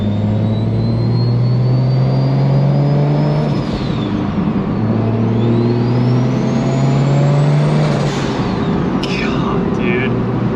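A tuned BMW N54 engine revs hard and loud, its pitch climbing and falling in repeated sweeps with turbo whine above. Someone talks throughout.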